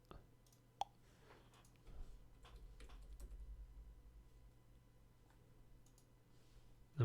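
Faint, sparse clicks of typing on a computer keyboard, a few isolated keystrokes and short bursts over a low steady hum, with a louder knock near the end.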